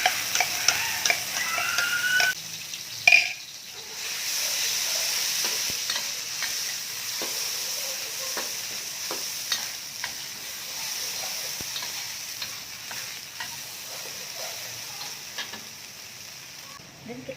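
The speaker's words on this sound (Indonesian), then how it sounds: "sekarang saatnya kita tumis daun ubi singkongnya dulu ya" Cassava leaves stir-fried in a pan with blended chili and shrimp-paste spice paste give a steady close sizzle, with repeated scraping and tapping of a spatula throughout.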